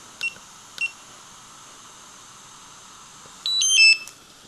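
An electronic device beeps as it powers on: two short high beeps, a pause, then a louder warbling chirp sequence near the end, close and clear over a faint hum.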